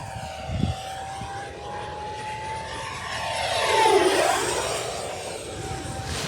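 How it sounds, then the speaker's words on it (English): Arrows Viper 50mm electric ducted-fan RC jet on a 4S battery screams past overhead, a high whine that rises and swells as it nears, then shifts pitch and fades away, heard alone. "this plane, it just screams."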